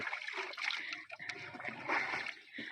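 Water splashes and sloshes as an elephant bathes, with busy irregular splatters and trickles running throughout, fairly close, and people's voices mixed in.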